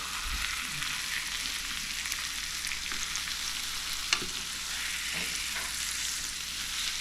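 Fish fries in a pan over a campfire-style cook in the Sawtooth Mountains, giving a steady close crackling sizzle with a single sharp tap partway through and no talk.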